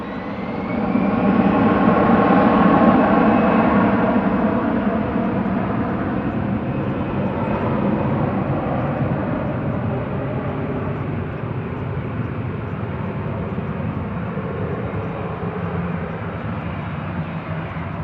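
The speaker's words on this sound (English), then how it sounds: "Next will be EasyJet to Faro, GEZWB with flight 2215, A320-200 Classic." An EasyJet Airbus A320-200 Classic bound for Faro roars past at Manchester Airport, a loud broad jet rush that peaks early and then settles into a long, slowly fading engine drone.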